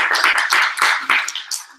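Clapping from an audience standing up at a holiday team meeting, a close, fairly loud run of hand claps with uneven rhythm that carries steadily through the whole moment.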